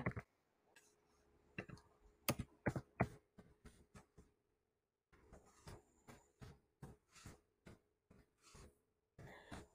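Keys clattering on a computer keyboard as a job title is typed into a search field, irregular bursts of quick clicks with a pause midway, quiet and close with no talking.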